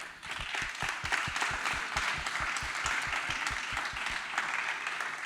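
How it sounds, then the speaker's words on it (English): An audience applauds at the close of a panel session at a conference, clapping steady and dense throughout, with strong low thumps from nearby hands under a broad wash of clapping. "I think we can give ourselves a round of applause for this session."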